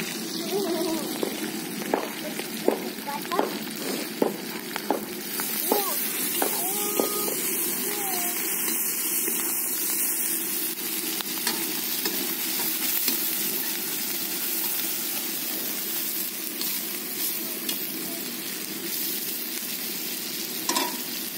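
Onions fry in a pan for qovurma lagman with a steady, hissing sizzle, close and continuous, broken by the scrape and clatter of stirring.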